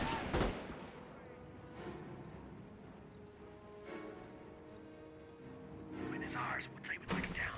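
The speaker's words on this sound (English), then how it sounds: "Front infantry's firing on us!" Infantry gunfire in a Company of Heroes 1 match, US forces against Wehrmacht, with sharp bursts near the start and clustered shots toward the end over a steady battlefield din and game voices.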